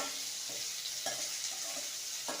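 Ingredients sautéing in oil for a Kerala mutton curry, fried until golden: a faint, steady sizzle with a few soft spatula strokes spaced through it.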